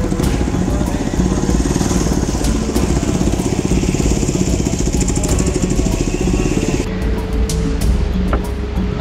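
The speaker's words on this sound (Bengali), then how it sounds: "আমাদের নৌকা সাবধানে এগিয়ে চলছে" A boat's motor runs steadily and loudly on a river deep in the Bandarban hills, a continuous throbbing drone that holds throughout, with its tone shifting slightly near the end.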